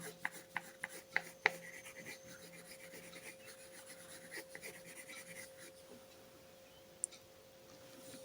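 Pencil hatching on paper while shading a drawn box: a quick run of sharp scratchy strokes early on, then softer continuous rubbing and rasping, close and fairly quiet with no talk.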